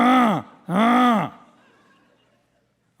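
A voice imitates a failing septic pump with two loud, drawn-out groaning wails, each bending in pitch, followed by a fading tail and a brief final sound.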